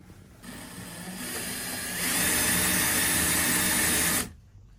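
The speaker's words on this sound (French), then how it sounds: "J'étais en train de percer." A power drill bores holes near a ventilation grille, its motor whining in one continuous run that grows louder midway before cutting off sharply, close by and with no talking.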